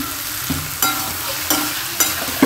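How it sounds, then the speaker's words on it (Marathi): Chili paste sizzles in a pan as it is sautéed, a close, steady frying hiss broken by periodic scraping strokes of a spatula roughly every half second, with no talking. "5 ते 10 मिनटं परतवते त्याला"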